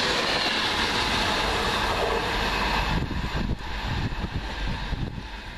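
A Virgin Trains Class 390 passenger train running from Wolverhampton to London Euston passes close by as a loud, steady rush of wheels and wind, with rhythmic rail clatter and rumble building in the second half.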